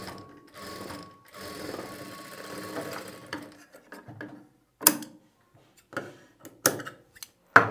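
A domestic sewing machine stitching piping onto a blouse, with an early steady run of stitching followed by short bursts, mechanical clicks and pauses, close and fairly quiet.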